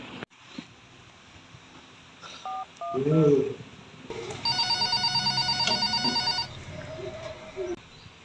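A telephone is dialed with a quick run of keypad tones, then rings with a loud electronic trill for a couple of seconds, in a quiet room with faint movement around it.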